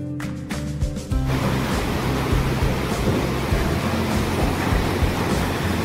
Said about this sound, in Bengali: জলটা বয়ে আসছে, আর এই হচ্ছে ওয়াটারফল